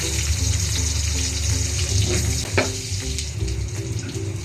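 Garlic and onion sautéing in a pan for Filipino pakbet, a continuous loud sizzle with some watery hiss and a brief stir near the middle, no talking.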